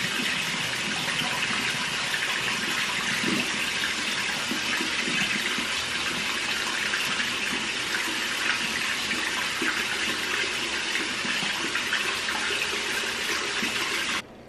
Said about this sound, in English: I'm gonna go ahead and get some warm water and start to emulsify.